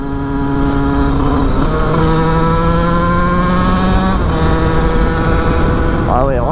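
A 100 2Fast scooter running its stock air box produces a loud, steady engine drone with rising and falling pitch. Heavy wind rush blows across it throughout.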